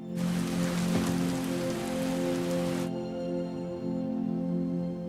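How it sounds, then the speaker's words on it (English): Steady heavy rain pours and patters on a hard surface nearby, a dense continuous hiss that thins out partway through while a low hum carries on. "whenever we cut back to Gwen, we hear rain pouring down and hitting the building outside"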